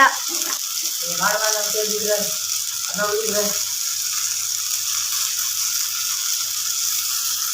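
Chicken frying in a pan for a Guntur kara dish, a steady broad sizzle that runs throughout at moderate loudness, with a voice talking over it near the start.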